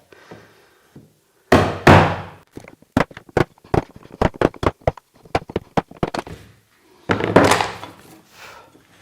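Chisel squaring up the ends of wooden sideboard legs against a flat reference surface: a long run of sharp, irregular taps and knocks of varying loudness, bracketed by louder scraping bursts near the start and end.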